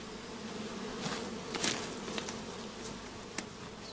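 A dense, steady buzzing of a shook swarm of about two and a half pounds of honeybees, close and continuous, with a few louder individual bees passing near.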